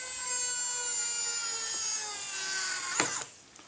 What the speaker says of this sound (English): This pin vise pokes a nice small hole into the covering, and then does a nice pilot hole for the size of the screw